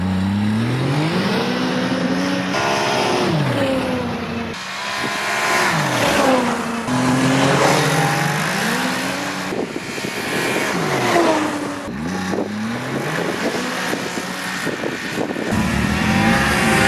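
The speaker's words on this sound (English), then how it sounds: "I'm going to show you some accelerations and some engine sound." A 2015 Ski-Doo Grand Touring SE 1200 snowmobile engine revs up repeatedly, each loud, close acceleration climbing steadily in pitch before dropping off, with several pulls in a row and no talking.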